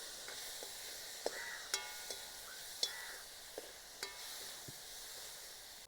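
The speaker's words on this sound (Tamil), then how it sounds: "நல்லா பொரியுது வெங்காயம், இன்னும் பொரியட்டும்." Onions fry in coconut oil in a village home kitchen, a soft, steady sizzle broken by scattered light clicks and taps of stirring, ending with one sudden loud knock.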